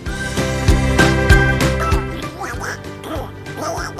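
Ducks quack repeatedly in a busy, overlapping chorus, close and fairly loud, with no talking.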